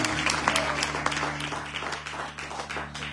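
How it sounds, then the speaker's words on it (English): A church congregation at an evangelistic service claps hands in a soft, scattered patter, fairly distant, over a steady low hum. "Please clap your hands for yourself."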